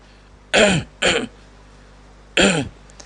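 Three short, forceful throat clears, two in quick succession and a third after a pause, with no talking.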